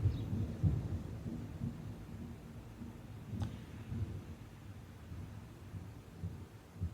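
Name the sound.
thunder from a nearby storm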